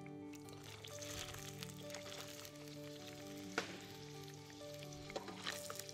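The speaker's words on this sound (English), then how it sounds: "When oil is hot, add onions" Onions sizzling in hot oil in a kitchen, with a steady hiss and frying crackle and a few sharper pops and clinks. A faint hum runs underneath, and there is no talking.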